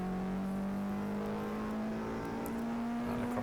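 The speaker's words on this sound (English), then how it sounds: "Using all the revs on exit there." A Peugeot 106 race car on Goodwood Motor Circuit winds its engine up through the revs exiting a chicane, a steady rising whine heard on board, loud and continuous.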